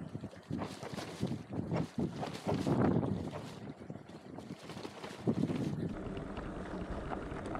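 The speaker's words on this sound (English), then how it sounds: "Strong headwind." Strong gusty wind in the Sahara desert buffets the microphone with loud, uneven rumbling bursts, carrying dust and sand.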